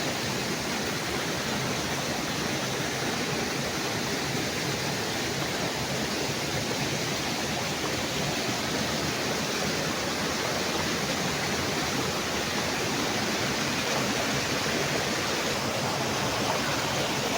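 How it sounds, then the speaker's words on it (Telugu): Mashenuloddi waterfall roaring nearby, a dense, constant broadband rush of falling water, loud and unbroken for the whole stretch with no voices. "అదే వాటర్ ఫాల్స్ ఉన్నది"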